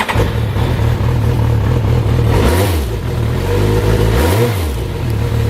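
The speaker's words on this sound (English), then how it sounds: "I just hit the starter button." A 1993 Yamaha GTS-1000 with its 1000cc inline-four cranks on the starter, catches and settles into a steady close idle, the revs blipping up and dropping back twice.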